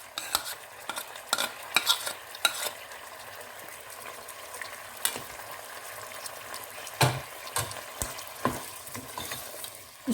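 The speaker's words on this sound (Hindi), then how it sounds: "इसको तेज़ आंच पे फ्राई करेंगे ताकि प्याज और ये लहसुन अच्छी तरह से पक जाए" Onion and garlic with cumin, white and black cardamom fry in oil over high heat for chicken qorma, giving a soft steady sizzle broken by scraping stirs and clinks of a utensil on the pan.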